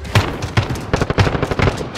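Automatic weapon fire in a Modern Warfare multiplayer match on the Crash map, loud close bursts of rapid shots with short pauses between them and no talking.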